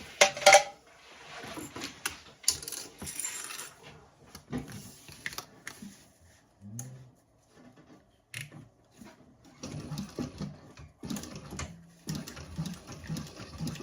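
A sewing machine top stitching the seam of a fabric candy bag, running in short bursts of rapid mechanical whirring and clatter with pauses and handling noises between them.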